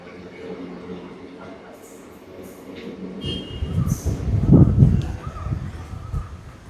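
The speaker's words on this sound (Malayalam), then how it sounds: "അതേ ഒരു ട്രെയിൻ പോയി" A passing train rumbles in from a quiet background, builds to a loud, close peak and then begins to fade, with voices and occasional crow calls around it.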